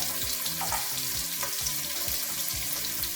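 Andouille sausage frying in olive oil in a pot, a steady close sizzle and crackle running continuously with no talking.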